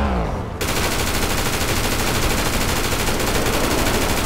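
Sustained automatic AK rifle fire in GTA 5, a loud, dense stream of rapid shots that starts abruptly after a short lead-in and keeps hammering without pause to the end.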